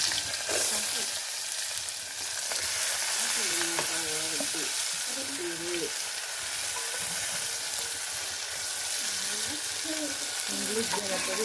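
Cumin seeds and green chilies frying in hot oil give a steady, dense sizzle that fills the clip, with occasional stirring scrapes and brief bird-like chirps in the background.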